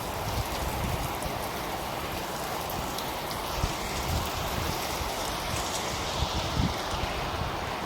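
Heavy rain falling steadily at a rural home in Thailand, a dense, constant hiss and patter with occasional louder drops, continuous and without talking.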